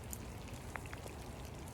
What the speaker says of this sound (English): I like to see like it's hailing.